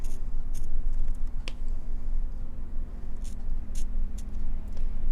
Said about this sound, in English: I'm just going to take some little snips right along here.